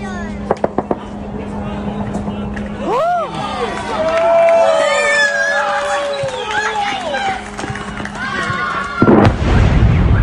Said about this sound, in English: Air defense going off to shoot down a Russian threat.